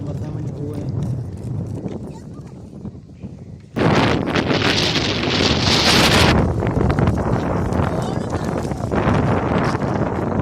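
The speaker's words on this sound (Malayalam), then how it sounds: "കാറ്റുണ്ടല്ലോ" Strong wind buffets the microphone outdoors in a village setting where kites are flying. The gusts swell sharply partway through and roar loudly, and voices are heard beneath them.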